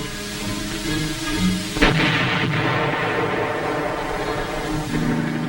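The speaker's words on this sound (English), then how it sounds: "Tanks were used to keep the roads open at strategic points, firing to keep the enemy off balance." Army tanks fire their guns along roadways during the Vietnam War: a heavy boom lands around the two-second mark over a dense, continuous rumble, with a softer thud later, loud and close.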